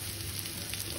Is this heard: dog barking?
no